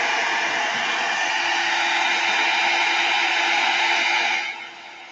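A hair dryer blows steadily and loudly across a journal page for a craft art project, a constant airy whoosh that drops to a lower setting just before the end.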